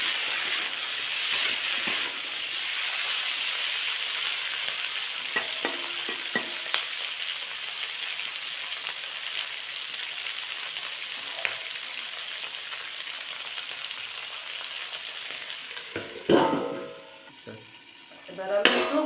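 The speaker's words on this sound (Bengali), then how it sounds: "বিন সব দিয়ে দেবো, ক্যাপসিকাম, কাঁচা লঙ্কা, আদা কুচি। এই সবগুলো একটু ভেজে নিতে হবে।" Beans, capsicum, green chilli and chopped ginger frying in a pan for chilli paneer, a steady close sizzle with occasional stirring scrapes and clinks, louder bursts near the end.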